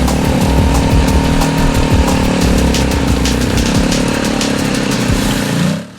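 A KTM off-road motorcycle in a military motocross race revs hard and close while churning through ruts, its buzzing engine loud and sustained before cutting off abruptly near the end.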